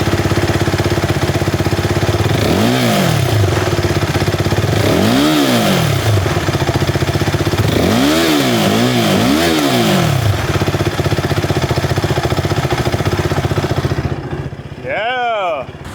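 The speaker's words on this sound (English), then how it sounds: "Let's give this a start up. Wait, this has got a stock exhaust on it, so it doesn't sound any different" A small motorcycle with a stock exhaust starts up and revs repeatedly, each throttle blip rising and falling in loud close bursts over a steady idle, then a final rev as the background drops away.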